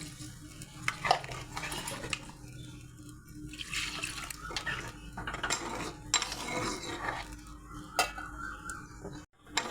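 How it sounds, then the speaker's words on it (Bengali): Mustard paste stirred in a pan for fish curry, with repeated close scraping and metal clinks of a spoon, light sizzling and a splash of water being poured in. "এটা আমি নেড়ে নেবো, একটু কষিয়ে নেবো"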